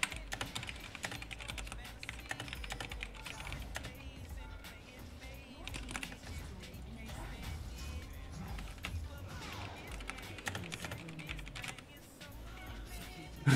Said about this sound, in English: I was typing, dude.